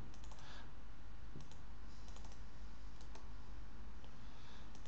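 Computer keyboard keys click in an uneven run as a Linux sudo mount command is typed, close and crisp over a steady hiss, with scattered single taps between faster flurries.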